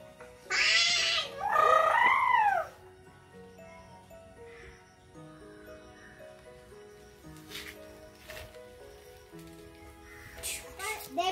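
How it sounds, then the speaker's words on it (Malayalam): A cat gives two loud, close, drawn-out meows, followed by quieter background with faint clinks and rustling. "പൂച്ച വന്നിട്ടുണ്ട് കേട്ടോ"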